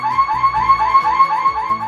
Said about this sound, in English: the dog bark can be changed to a powerful intruder alarm sound